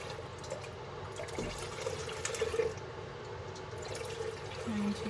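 Gentle water sloshing and trickling in a bowl as churned butter is rinsed in ice-cold water, a low steady liquid swirl with faint splashes, fairly close and quiet.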